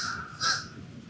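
A crow caws twice during the bird show at Disney's Animal Kingdom, a harsh call that comes through clearly against faint outdoor background noise, with no one speaking.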